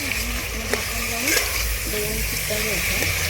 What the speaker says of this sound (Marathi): थोड्या वेळ हे करायचं, परतवायचं कांद्यामध्ये